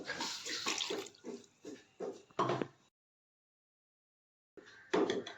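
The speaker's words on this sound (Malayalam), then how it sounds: "ഇനി കുറച്ച് വെള്ളവും കൂടി ചേർത്ത് കൊടുക്കണം" Water is poured into a pan of Kerala fish head curry with its ground spice paste, giving a close, splashy gurgle in uneven bursts that is followed by silence and then a brief final splash.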